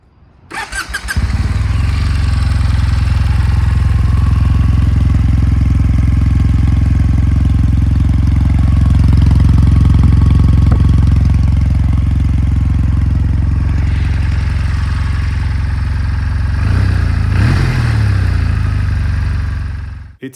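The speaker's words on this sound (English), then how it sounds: "Just listen to the exhaust sound." A 2022 Kawasaki W800 motorcycle starting up, then a loud, close, steady exhaust rumble while riding, holding a deep even note for most of the stretch before easing off near the end.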